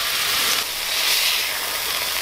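Pork fillet searing in a hot pan for a honey-thyme sauce dish, giving a steady, fairly loud sizzling hiss that holds throughout without a break and with no talking.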